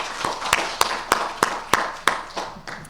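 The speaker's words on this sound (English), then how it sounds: "let's give them a round of applause" Scattered applause from an audience at a Philippine tourism industry forum, heard as about ten distinct, fairly soft claps spaced at a regular rhythm rather than a full ovation.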